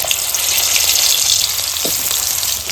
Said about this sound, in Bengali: প্রথমে আগে আলুটা ভেজে নিই।